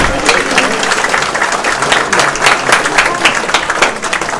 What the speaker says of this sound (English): Can we have a round of applause for you being here?